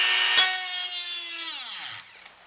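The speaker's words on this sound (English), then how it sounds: "you can even use a Dremel tool. This is a real cheap little Dremel tool" A cheap little Dremel rotary tool grinds a steel mower blade. A thin, high, buzzing whine sounds close at first, then spins down and trails off into near silence.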